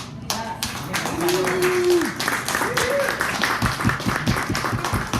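Small audience at a sales meeting applauding a presenter named Lauren, scattered hand claps and taps with voices talking over them near the start.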